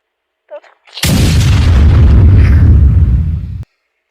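A single massive explosion set off by a Canter truck, a deep, loud roaring blast that holds for about two and a half seconds before cutting off abruptly, preceded by a short faint sound.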